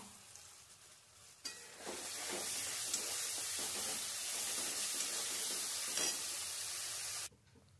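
Ground spice paste hits hot oil for a vegetable chicken curry, bursting into a loud, bright sizzle that swells and holds with stirring scrapes, then cuts off abruptly.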